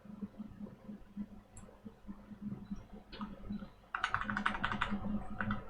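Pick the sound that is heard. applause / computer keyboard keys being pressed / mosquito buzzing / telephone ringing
computer keyboard keys being pressed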